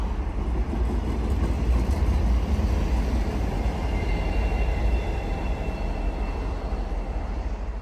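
MBTA commuter rail train 1117 rolls past at night near Lansdowne, a loud, steady low rumble of wheels and engine close by, holding constant throughout with no talking.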